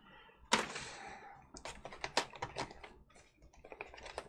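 An object is set down on a computer keyboard with one sharp knock, then scattered light clicks and taps of keys as it settles and shifts, close and fairly quiet, with no voice.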